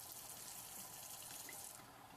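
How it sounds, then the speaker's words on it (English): Tap water runs from a sink faucet into a 750 ml water bottle, a steady close hiss of flowing water that eases slightly near the end, with no talking. "I'm only going to put a little bit in it, and this is tap water."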